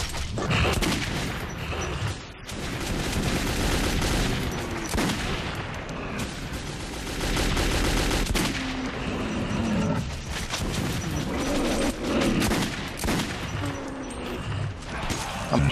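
Gunfire in the video game Metro 2033, sustained loud dense shooting blended with mechanical clatter and growling creature noises, a continuous chaotic barrage throughout.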